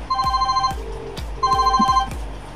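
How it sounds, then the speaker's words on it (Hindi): A refurbished BlackBerry rings with an incoming call, its electronic ringtone repeating a bright melodic phrase twice, loud and close. "कॉल भी आ रही है"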